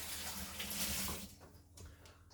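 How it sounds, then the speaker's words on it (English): Running tap water rinses hands in a kitchen while ham is being prepared; a steady broadband rush runs for about a second and a quarter, then cuts off into quieter room sound. "rinse these hands off"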